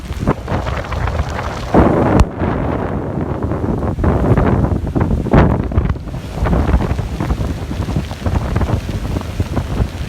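Strong tropical storm winds from Tropical Storm Eta buffet the microphone on Tampa Bay, a loud continuous roar with surging gusts and crashing waves underneath, no talking.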